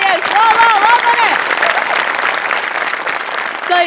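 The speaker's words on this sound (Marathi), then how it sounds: "म्हणजे बनेसाठी टाळ्या." Studio audience applauding a comedy performer on a Marathi comedy show, a loud burst of dense clapping that stays steady and slowly eases, with a voice calling out over it at the start and end.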